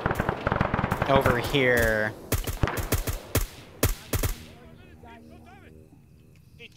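Suppressive gunfire crackles in an Operation Red Wings video game, with rapid, loud automatic bursts in quick succession after a voice speaks, then fading to a quieter background.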